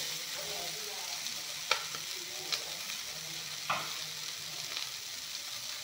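Two tomatoes frying in a pan for a pea and egg curry, giving a soft continuous sizzle with a few light scrapes and taps of a spoon, close by and fairly quiet with no talking.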